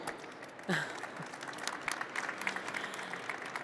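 An audience at a European ocean policy event applauds Timmy with moderate, scattered clapping that builds after a brief opening sound and continues steadily.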